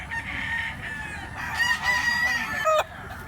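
A green-legged fighting rooster at a gamefowl sale in Cebu crows once, a drawn-out call that breaks off sharply at the end, fairly close and moderately loud over low background noise.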